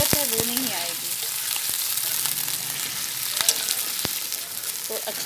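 Onions and chicken frying together in a pan: a strong, continuous sizzling hiss close up, with a few sharp clinks and scrapes of stirring.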